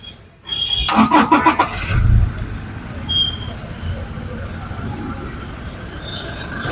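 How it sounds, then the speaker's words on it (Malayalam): A Toyota Innova Crysta with about 147,000 km on it cranks and fires up in a short loud burst, then drops to a quiet, steady idle close by. "ഇനി നമുക്ക് ഈ വാഹനം സ്റ്റാർട്ട് ചെയ്തതിൻ്റെ സൗണ്ട് ഒന്ന് കേൾക്കാം"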